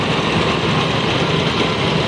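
Engine of an antique 1953 Cub tractor fitted with a sickle bar mower, running at a farm expo tractor parade with a steady, loud, rough chugging drone and no pauses or voices.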